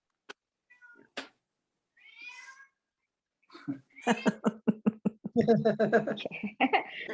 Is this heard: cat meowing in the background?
yes